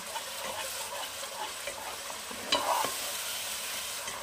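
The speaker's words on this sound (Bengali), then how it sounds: "একটু সময় নিয়ে মিডিয়াম টু লো হিটে এটাকে একটু মশলাটাকে ভালো করে কষাতে হবে।" Spice masala for a cauliflower curry sautéing over medium-low heat in a pan: a steady sizzle with occasional scraping stirs, and a brief louder clatter partway through.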